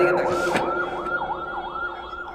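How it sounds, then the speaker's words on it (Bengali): An ambulance siren wails past in a steady rising-and-falling cycle, loud and close at first and gradually easing, over a steady background hum during a religious sermon. "ডানে কি অ্যাম্বুলেন্স যাচ্ছে"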